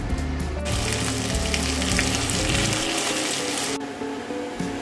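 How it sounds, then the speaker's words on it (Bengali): Spiced soya chaap fries in a covered pan, a steady loud sizzle with a rattling, ratchet-like crackle that drops away near the end, with no voices. "এবারে কিন্তু চাপগুলোকে ঢেকে দেবো, ঢেকে দিয়ে কিন্তু ভাজতে হবে।"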